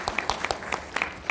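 Applause from a spiritual gathering crowd, with distinct individual claps popping out over a softer bed of many hands, fairly close and lively for a brief moment.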